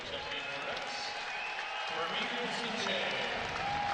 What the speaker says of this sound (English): They're getting a round of applause, and deservedly so.